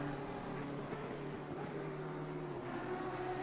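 Lamborghini GT3 race car in a sim racing game at Donington Park, its engine a steady, loud droning whine that holds pitch and then shifts slightly near the end, with no talk over it.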